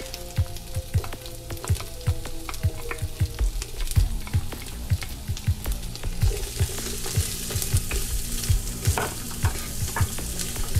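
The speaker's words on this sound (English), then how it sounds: "we're going to go ahead and give that a stir and allow the onions to cook until it becomes translucent." Minced garlic and onion sizzle steadily in a pot while a spoon stirs them in regular scraping strokes, with the frying hiss growing brighter toward the end and no voices over it.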